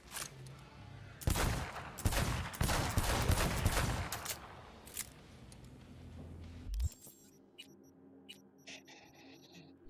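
Revolver fire in Cyberpunk 2077: a rapid run of loud, sharp gunshots and impacts crowding the first several seconds, then cutting off to quieter clicks and soft game-interface ticks.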